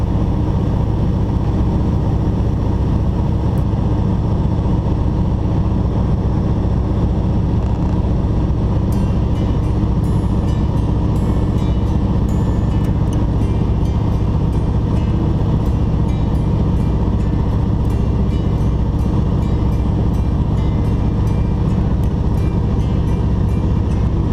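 A 1963 de Havilland Beaver floatplane flying across an inlet toward Anchorage makes a loud, steady, heavy engine and propeller drone that fills the cabin without a break.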